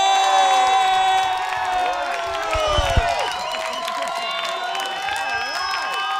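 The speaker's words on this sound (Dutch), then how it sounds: "Wil ik jullie grootste en wildste applaus voor de band van" An audience cheers, whoops and claps for a band on stage, a lively mix of shouting voices and applause with tonal stage sounds running through it, the crowd noise easing slightly partway through.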